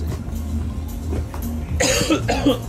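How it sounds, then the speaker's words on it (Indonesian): A couple of short, harsh coughs near the end, louder than the faint low hum and background murmur before them. "Batuk."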